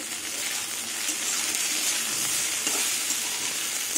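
Potatoes and eggplant fry in a pan for a Bengali neem-begun dish, giving a steady, even sizzle with a soft watery hiss that holds at a constant level for several seconds, close up and with no voices.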